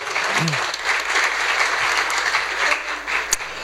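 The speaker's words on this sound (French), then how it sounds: "On peut l'applaudir bien fort s'il vous plaît" An audience at a bank's opening address breaks into warm, sustained applause, a close, even roar of many hands with an occasional sharper clap standing out.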